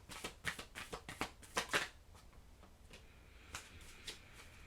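Oracle cards being shuffled by hand, a close run of quick papery riffles and slaps in the first two seconds, then a few softer, sparser shuffles.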